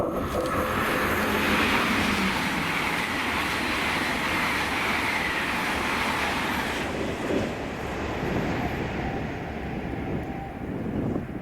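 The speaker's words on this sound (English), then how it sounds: "the 1713 London North Eastern Railway service to London King's Cross from Edinburgh with 801 227" An LNER Class 801 electric passenger train rushes past close by at Drem station with a steady roar and rattle, then fades as it moves off.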